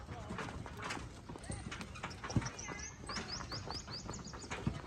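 A bullock's hooves clop steadily on damp, rain-wet ground nearby, with birds chirping in the background and someone talking over the walking.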